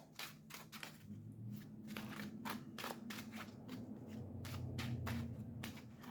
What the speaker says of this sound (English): I actually shuffle the cards better with the mini decks.